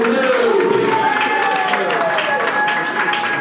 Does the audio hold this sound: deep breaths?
no